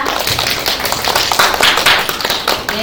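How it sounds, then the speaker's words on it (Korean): Audience at a traditional fermented-sauce forum clapping to welcome the host, a loud, close burst of many hands with uneven rhythm, no talk over it. "여기 계신 분들이 따뜻한 박수로 맞아주셔서 감사드립니다"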